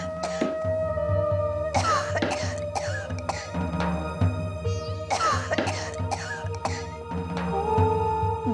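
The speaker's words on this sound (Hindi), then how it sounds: "दादी को फिर से खांसी शुरू हो गई।" An elderly woman coughs hard in repeated wet, raspy bursts, pausing between fits, close and loud with the room otherwise quiet.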